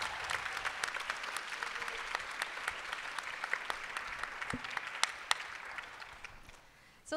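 Moderate applause from a conference breakout audience welcoming a panel, steady clapping with a few sharper claps that tapers off near the end.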